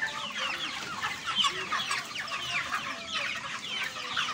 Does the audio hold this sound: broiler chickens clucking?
yes